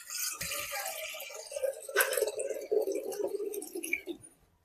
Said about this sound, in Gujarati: હવે નાખશું આપણે કુકરમાં પાણી બટાટા બાફવા માટે.